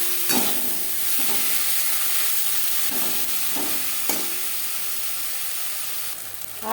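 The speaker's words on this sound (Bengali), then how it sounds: "আদা বাটা, কাঁচা লঙ্কা বাটা, পেঁয়াজ রসুনের সাথে বেশ ভালো করে মিক্স করে দেবো" Ginger paste, green chili paste, onion and garlic sizzling steadily in a pan while being stirred for a boal fish curry, with a constant close hiss and a few scraping stir strokes, no talk.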